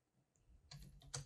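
A few faint key clicks from typing on a computer keyboard, quick taps grouped near the end of a very short, quiet moment.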